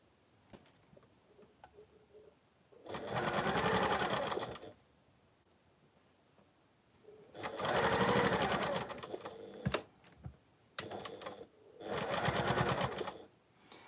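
A domestic sewing machine runs through fabric in three separate bursts of rapid mechanical chatter, each a couple of seconds long. Quiet handling sounds and small clicks fill the pauses, close up and without speech.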